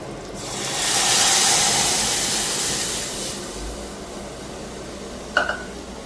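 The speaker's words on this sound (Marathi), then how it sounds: "आता भारी तडका बसेल बघा तुमच्या समोर मी वरण टाकते" Cooked dal is poured into a hot tempering of fried chillies and garlic, raising a loud hiss that swells and then slowly fades, with a brief clink of a utensil near the end.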